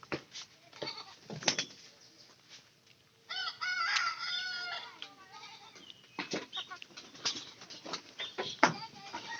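Chickens cluck and squawk in a backyard coop kept alongside pigeons, several sharp calls in bursts over a steady low hiss, fairly close, with a few knocks and rustles but no clear talk.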